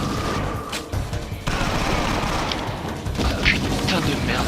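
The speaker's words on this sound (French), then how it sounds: "ça tire de partout" Gunfire coming from all sides during an escape by cable car in the video game XIII, a dense, continuous barrage of shots and crashes beneath a man's speech.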